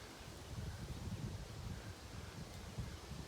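Wind blows steadily through a forest where large trees are being felled, a soft continuous rushing with leaf rustle and low microphone buffeting, fairly faint and without voices.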